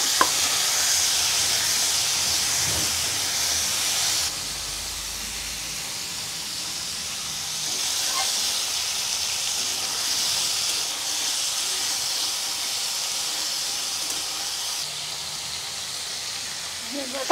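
Crab frying in hot oil with cumin, bay leaf and dried red chilies gives a loud, continuous close-up sizzle and hiss lasting the whole stretch, with stirring scrapes and a brief dip in intensity partway through.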